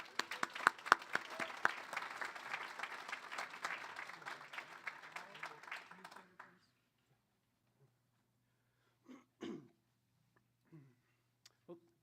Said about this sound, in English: Please join in a round of applause for Brock Henderson.